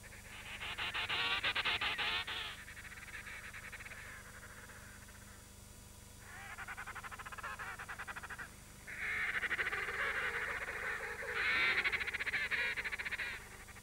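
Loud, harsh trumpeting calls of emperor penguins in several long bursts, one after another, from a large noisy colony with faint background chatter.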